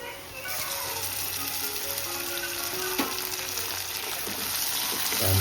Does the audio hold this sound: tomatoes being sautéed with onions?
yes